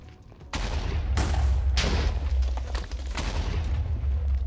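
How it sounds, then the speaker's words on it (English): Minecraft TNT blasts while mining for ancient debris, several sharp booms in quick succession with crackling tails, loud and close over a low rumble, no voices. "let's light it up and wait for the explosion"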